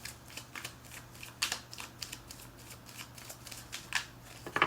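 Tarot cards being shuffled by hand during a love reading: a steady run of soft, close riffling and flicking card sounds, fairly quiet, with no voice over them.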